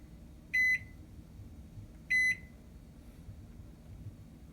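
A Toshiba ML-EM45P countertop microwave oven gives two short, clear electronic beeps from button presses, spaced about a second and a half apart, against a quiet room background.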